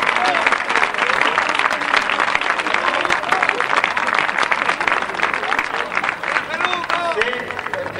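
Crowd applause for Feluco at a boxing tribute to Kid Teror during the 1993 Fiestas del Pino: dense, steady clapping from a large audience filling all eight seconds, with voices mixed into the noise.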